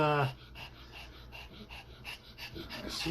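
A small Applehead Chihuahua whimpers and whines in a string of short, soft, high-pitched cries close by, with a brief voice at the start.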